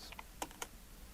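Numbers are typed on a computer keyboard in a few quick, soft key clicks, close and faint against a steady room hiss, with no voices.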